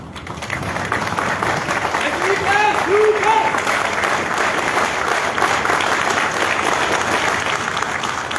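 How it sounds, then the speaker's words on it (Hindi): An audience at a college Republic Day celebration in 2022, at Atma Ram Sanatan Dharma College, claps in a steady, loud burst, with a few voices briefly calling out partway through. "एक बार क्लैपिंग के साथ, अगर जोश है तो तालियों के साथ"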